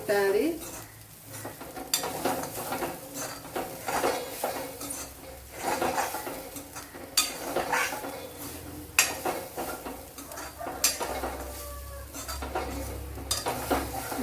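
Pumpkin pieces sizzle in a hot pan while a utensil repeatedly stirs and scrapes, with occasional clinks of metal against the pan.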